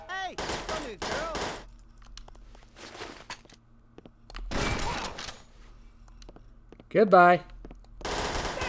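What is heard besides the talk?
gunfire in the video game Perfect Dark Zero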